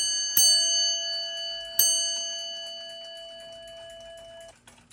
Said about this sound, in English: It's a cast brass bell, so has a nice long resonating tone to it.